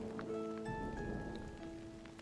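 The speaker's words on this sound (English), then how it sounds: "It's a rainy day." Steady rain falls in the Fae Farm video game as a soft, even hiss, with faint tonal game music running quietly over it and no talking.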